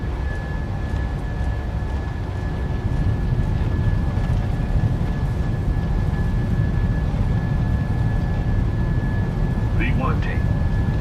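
Boeing 737-800 jet engines at takeoff thrust in Microsoft Flight Simulator 2024: a loud, steady broadband roar with a sustained high whine, swelling slightly after a few seconds and running continuously.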